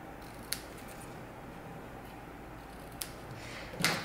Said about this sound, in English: Okay, now trim the ribbon.